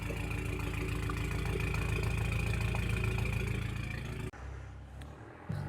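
A car engine runs at a steady, fairly loud mid-range hum after a rev, then quiets and settles into a lower idle near the end, with no talk.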